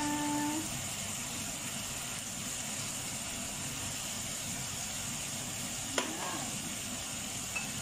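Chicken frying with curry powder as it is stirred in, giving a steady, soft sizzle throughout with a single sharp clink of the utensil near the end; a voice speaks briefly at the start.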